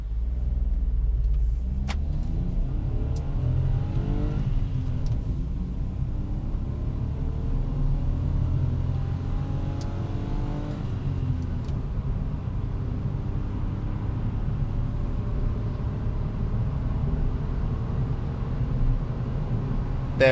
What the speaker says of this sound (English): let's do 0 to 60 full send.